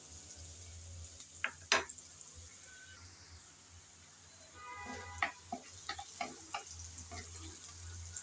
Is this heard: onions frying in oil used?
yes